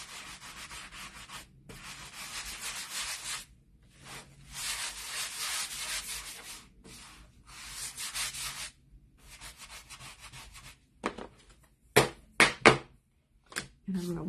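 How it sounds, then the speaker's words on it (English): A sponge sander is rubbed by hand over painted wood for a holiday sign, giving close, scratchy back-and-forth strokes in bursts of a second or two separated by pauses, followed by a few sharp knocks near the end. "I'm using a sponge sander or whatever by hand"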